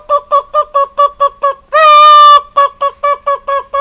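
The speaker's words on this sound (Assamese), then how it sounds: "মাইকি মুকিটো মাতটো এনেকুৱা" A hen calls in the forest of Pobitora Wildlife Sanctuary. She gives a close, loud series of evenly spaced clucks, breaks into one longer drawn-out call, then returns to the same brisk clucking rhythm.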